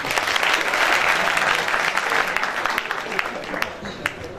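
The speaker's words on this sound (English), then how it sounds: "Please put a big round of applause for them." A large audience at a BRAC University freshman orientation claps loudly and densely, then the applause gradually thins and fades toward the end.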